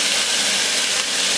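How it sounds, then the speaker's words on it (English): Onions sizzling in a hot pan, a loud, dense, continuous hiss heard up close with no break across the short stretch. "that's still sizzling, isn't it?"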